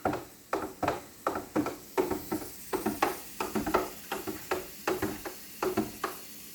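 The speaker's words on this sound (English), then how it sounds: "Stir that up" Steady rhythmic stirring of a home wine kit mixture with oak chips, each stroke a short scraping swish repeated about twice a second, close and fairly quiet with no voices.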